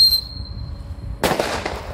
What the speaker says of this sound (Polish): one podczas gwizdu zaczynają się obracać i nie wiadomo, w którą stronę się tak naprawdę obrócą